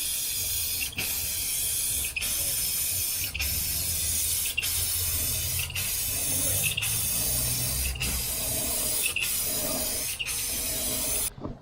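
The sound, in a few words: spraying clear coat onto custom Dodge RAM tail lights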